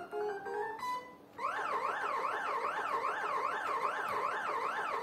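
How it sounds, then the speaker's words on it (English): Chiptune music from the game Paku in CGA mode plays through a Sound Blaster card on an 8088 PC XT: a short bleepy intro, then loud, continuous warbling synth tones rising and falling in a steady repeating pattern. "With Sound Blaster music. That's really cool."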